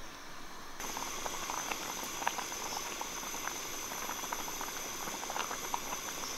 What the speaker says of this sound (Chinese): 然后把我们的滑肉倒进来， 煮个3-4分钟，让这个滑肉充分的吸收那个汤汁的味道哈。